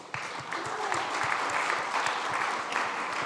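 Conference audience at SXSW 2025 claps for a panel guest, a brisk round of many hands with distinct individual claps audible, steady throughout the few seconds.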